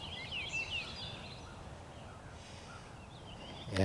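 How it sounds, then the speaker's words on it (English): Geese honk and call at Mirror Lake while guarding goslings, the calls moderately distant over steady outdoor ambience and wind, with a louder burst at the very end. "there's two geese out here. They're guarding two groups of goslings."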